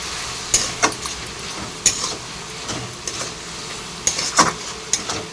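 Kashmiri chilli powder being stirred into tomato rice masala frying in a pan, with a spoon scraping and clinking against the pan in irregular bursts over a soft, steady sizzle.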